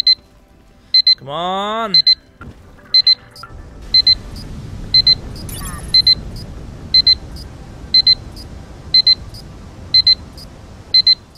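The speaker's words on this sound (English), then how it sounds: "You heard the alarm go off." An alarm clock beeping in repeated paired bursts at a regular pace, loud and sharp, over game sounds including a rising whistle, a low rumbling background and a brief spoken phrase.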